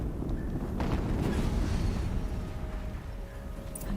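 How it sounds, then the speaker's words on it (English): A muffled explosion rumbles through a Horizon Zero Dawn battle against machine creatures, a broad low boom swelling and fading over a few seconds amid dense game noise. "Another explosion."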